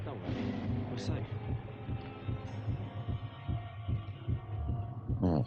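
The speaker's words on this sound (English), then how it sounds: "Oh, heartbeat." A low, steady heartbeat thuds rhythmically in a hospital area of the game Vampyr, beating evenly under a faint ambient hum with a couple of brief higher tones.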